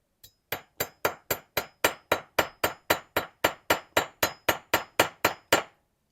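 A clean hammer taps a knife near its tip for sharpening, giving about twenty sharp metallic strikes in a steady, even rhythm, close and crisp, with no talk.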